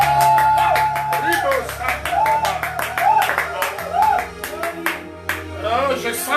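Church congregation clapping and cheering to acclaim God during a French-language service on the spirit of Gehazi, rhythmic claps and shouts filling the room over sustained music and a preacher's voice.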